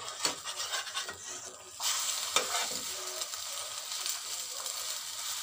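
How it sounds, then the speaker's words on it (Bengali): Egg frying in a little oil in a frying pan, a steady close sizzle with scraping and stirring strokes from a utensil, continuing throughout without talk. "দেখো বন্ধুরা ডিম ভাজা হচ্ছে"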